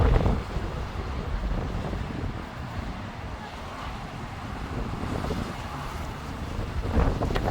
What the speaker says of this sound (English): It's so windy right now. I'm getting blown over.